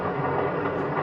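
A 1950s passenger train rolls along the rails as it approaches a station, a steady dense rumble with no distinct clicks, loud and continuous.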